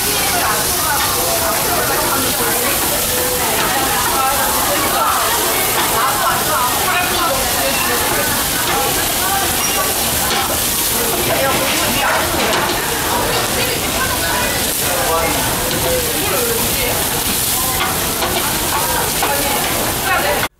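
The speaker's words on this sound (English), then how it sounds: "Dinner's cooking away" Food sizzling loudly on a restaurant table grill in Seoul, a dense, steady frying hiss that runs continuously for the full length with a faint voice under it.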